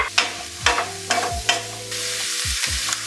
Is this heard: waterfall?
no